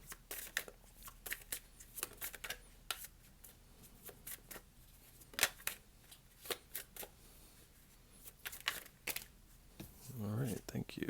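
Tarot cards being drawn and shuffled, a series of crisp, close card riffles and flicks in irregular bursts throughout, with a louder shuffling rustle near the end and a voice speaking quietly at times.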